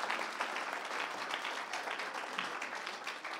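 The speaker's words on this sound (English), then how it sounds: "let's give Maxim another little ripple of applause" A church congregation at an Easter baptism service gives a warm ripple of applause, many hands clapping in a steady, even wash that continues throughout at a moderate, somewhat distant level.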